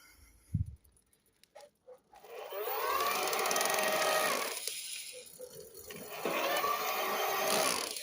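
Bosch Performance Line CX Gen 4 e-bike mid-drive motor whirring under pedal assist in its first mode, a steady close whine that rises, dips briefly, then builds again after a few faint knocks at the start.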